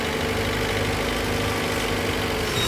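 Tractor engine from Farming Simulator 17, driving along a rough road on a Ukrainian map, a steady low rumbling drone that stays loud and even from start to finish with no voices.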